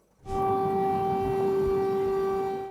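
An air raid siren in Ukraine, sounding near a school shelter, wails on a steady, sustained tone after a short quiet start, loud and unbroken for a few seconds.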